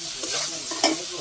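Potatoes with mustard are stirred and fried in a hot pan, giving a close, continuous sizzle with a sharp scrape of the spoon near the end of the short burst.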